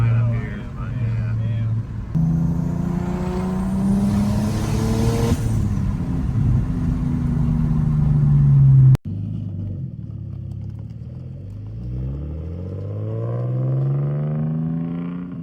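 BMW car accelerating on a road, a loud engine rumble with rising revs that drops for a shift and climbs again, a person talking over it.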